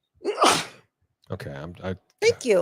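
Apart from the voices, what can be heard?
a person sneezing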